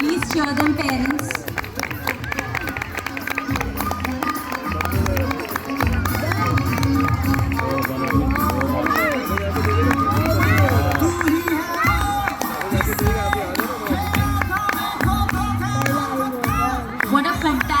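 Young kindergarten children run a race at a school sports day while a crowd of parents cheers and chatters loudly and continuously around them, with scattered clapping and voices calling out above the running.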